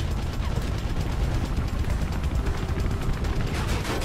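Rapid, dense gunfire from the Mirror's Edge video game, a sustained burst of repeated shots filling the whole stretch with loud, crackling reports and no pauses.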